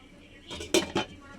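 A lid clinks down over a pan of fish and eggplant curry, two quick metallic knocks close by in a quiet kitchen.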